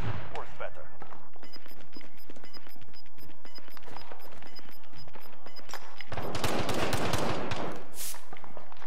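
Gunfire in the video game Warzone comes as a rapid stream of sharp shots, with a heavier burst of fire near the end, mixed with game effects and someone talking throughout.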